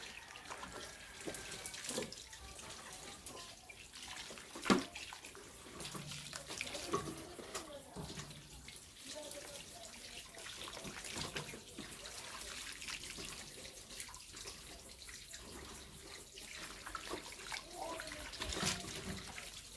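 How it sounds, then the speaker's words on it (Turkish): Grapes are washed in water, with continuous splashing, sloshing and trickling close by at a low, steady level, plus an occasional louder splash. "İyice temizle üzümlerimizi."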